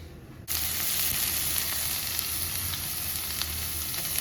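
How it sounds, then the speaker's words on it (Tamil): Onion, green chilli and ginger-garlic paste hit hot oil and ghee in a pan for chicken fried rice, bursting into a loud, steady sizzle that starts abruptly and holds without letup. "இப்போ மறுபடியும் எண்ணெய், கொஞ்சம் நெய் ஊற்றி வெங்காயம், பச்சை மிளகாய், இஞ்சி பூண்டு பேஸ்ட்டு எல்லாம் போட்டு"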